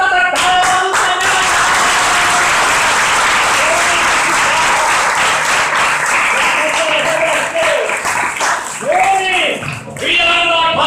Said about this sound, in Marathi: विश्वास करता तर टाळ्या वाजवून सांगा